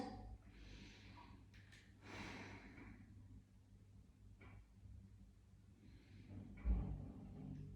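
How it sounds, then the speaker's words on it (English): A child takes deep breaths during a gentle stretching exercise, three soft, breathy inhales and exhales spaced a couple of seconds apart, quiet and close, with a faint bump near the end. "3 deep breaths."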